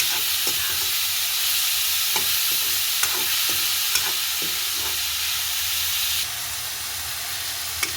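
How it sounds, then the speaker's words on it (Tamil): Tomatoes and onions sauté in a pan for a Sri Lankan-style crab curry, giving a steady close sizzle with sharp clicks from a spoon stirring throughout. "தக்காளி பழம் வெங்காயம் எல்லாம் கொஞ்சம் வேகமாக வதங்கி வந்துடும்"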